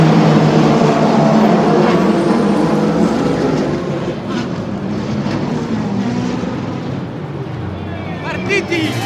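Race cars starting the 6 Hours of Imola endurance race, with Ferraris in the field: a loud, continuous roar of massed engines at a circuit, steady throughout with crowd noise and a voice under it.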